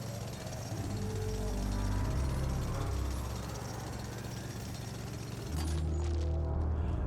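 Manual extraction of rupidium in The Alters video game: a loud, continuous mechanical grinding and rumbling drone with heavy low-end, shifting in pitch partway through and briefly dipping before resuming.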